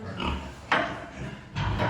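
A piglet on a family farm grunts in short, close bursts, with a few snorty grunts spread across the moment and a louder squeal-like grunt near the end.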